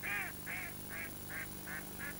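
A wild duck gives six evenly spaced, clear nasal calls in a steady rhythm, fairly close against a quiet streamside background with no voices.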